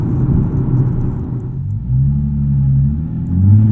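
A 2012 Nissan 370Z with a naturally aspirated engine and 6-speed manual hums low while driving, a brief rumbling whir that rises slightly as the car accelerates, heard from inside the cabin.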